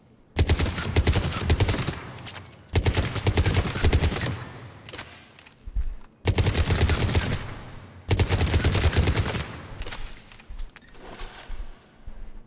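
A Cerberus Harrier rifle in Mass Effect 3 firing full auto, four long loud bursts of rapid gunfire separated by short pauses, with a couple of brief shorter bursts and fading echoes between them.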